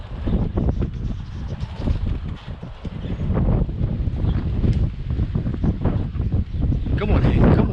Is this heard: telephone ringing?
no